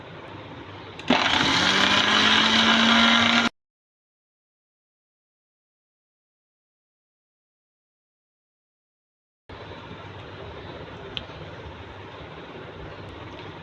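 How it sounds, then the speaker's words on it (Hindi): Round red chillies are ground for tomato ketchup in a grinder that whirs loudly for about two seconds and then stops. After a gap of silence, a low, steady rumble follows. "ये अब मैं इसको पीस रही हूँ"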